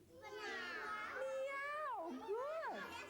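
Children's voices mimic a cat's meow in a drawn-out, wavering chorus with rising and falling pitch, fairly faint, in an indoor library storytime.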